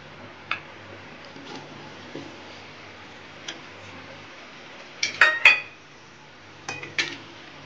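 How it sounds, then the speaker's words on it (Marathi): Paneer stirred in an oily pan sounds as sparse metallic clinks and taps of a utensil against the pan, quiet single knocks followed by a brief cluster of scraping clatters, with no speech. "हे आपलं पनीर मिक्स करून घ्यायचंय"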